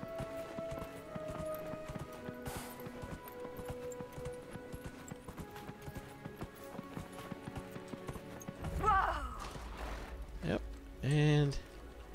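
Faint horse hooves clip-clop steadily beneath quiet background music in the video game Dragon Age Inquisition, followed by a few louder thuds and a brief whinny-like sound near the end.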